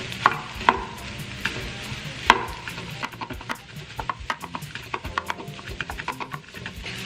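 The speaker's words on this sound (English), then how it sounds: "you're gonna add the rice in" Leftover rice hisses and sizzles in a frying pan while a spatula scrapes and taps the pan in repeated stirring strokes, close and crisp, with no talking.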